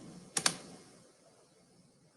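A couple of quick clicks from a computer keyboard, close and fairly soft, followed by quiet and one more tap at the very end.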